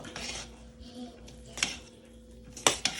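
Cooked Nigerian fried rice mixed in a pot with the gas off, soft scraping of a spoon and a few sharp metallic clinks against the pot, with light talking underneath.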